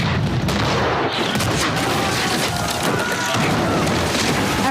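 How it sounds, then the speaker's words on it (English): Continuous booming cannon fire and crashing battle noise from a pirate ship battle, loud and dense, with rumbling blasts layered over each other. "we get a good pirate v pirate cannon fight"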